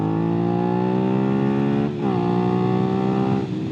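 A Suzuki SV650 motorcycle engine accelerating in third gear, a loud steady rising drone with a brief dip near two seconds as it shifts or eases, then climbing again, heard up close.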